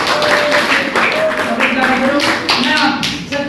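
Applause fills a classroom after group 2 finishes its presentation, a dense patter of many hands clapping steadily for a few seconds while voices talk over it.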